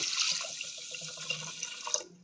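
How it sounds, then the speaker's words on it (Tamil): Buttermilk poured into a pot of rice with curry leaves and ginger, a brief close liquid splashing and gurgling that trails off after about two seconds. "இப்போ நாம் கரைச்சி எடுத்த இந்த மோரை இதில் சேர்த்துக்கலாம்."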